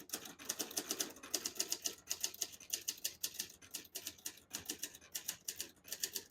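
A 1966 Hermes 3000 portable vintage typewriter, typing with red ribbon, clacks out a sentence in quick rhythmic bursts of sharp key strikes, each run separated by brief pauses, close and crisp with no talking.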